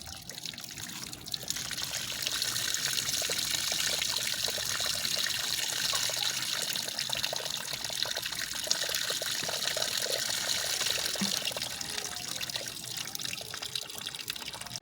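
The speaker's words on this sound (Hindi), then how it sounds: "ऊपर से हम ठंडा पानी डालेंगे।" Cold water poured steadily over boiled rice while making sweet zarda rice, a continuous even rush of running water lasting throughout, moderately loud and close.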